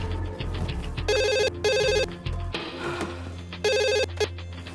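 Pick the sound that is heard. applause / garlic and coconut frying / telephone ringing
telephone ringing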